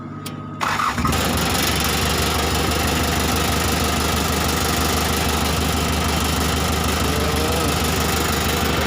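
A loud tractor engine starts up and settles into a steady, rumbling idle that runs continuously, close by, with a low throbbing chug.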